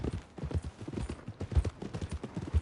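Horse hooves clip-clopping at a walk in Red Dead Redemption 2, an uneven plodding rhythm of soft thuds, fairly close and moderately quiet, with no talk over them.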